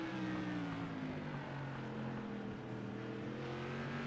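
Modified race car engines drone continuously on the Las Vegas track, a loud, steady roar with rising and overlapping engine tones as the cars run together, with no voices.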